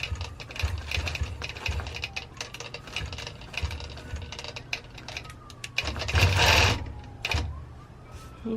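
Longarm quilting machine stitching binding onto a quilt, a quiet, continuous mechanical whir with rapid needle ticks and a louder burst near the end.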